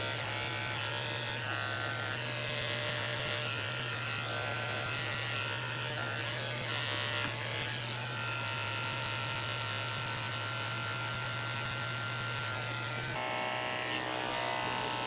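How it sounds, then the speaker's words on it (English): Electric dog clippers fitted with a 40 blade shave the hair from a Schnauzer's paw pads, giving a steady close mains-like buzz with a low hum that holds for the whole stretch, its tone shifting slightly as the blade moves, with no talk. "I'm shaving the pads of her feet out with a 40 blade."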